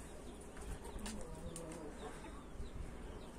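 Soft, scattered clucking from several roosters over a steady noisy background, continuous and somewhat distant, with no talking.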